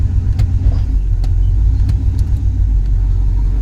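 A car engine with an aftermarket carburetor idles in drive at roughly 675 rpm, a steady, close, low rumble that holds evenly throughout with no talking.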